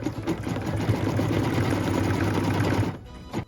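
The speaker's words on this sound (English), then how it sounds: "So what we're stitching right now is the placement line for the center of our barn quilt." Sewing machine stitching a placement line for the centre of a fabric barn quilt, a steady continuous mechanical whir close by for about three seconds before it stops.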